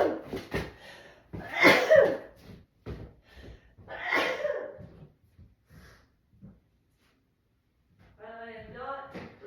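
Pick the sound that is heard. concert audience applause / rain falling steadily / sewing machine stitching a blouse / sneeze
sneeze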